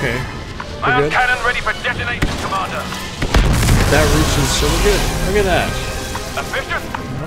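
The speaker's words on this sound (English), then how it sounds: "I have cannon ready for detonation, Commander!" A cannon detonates in the Star Wars Battlefront 2 video game with a heavy low boom partway through, rumbling under dense game effects and ongoing talk.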